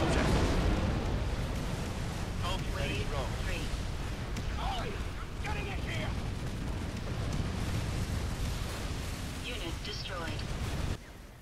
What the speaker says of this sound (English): get my flamethrowers in, get the napalm strike down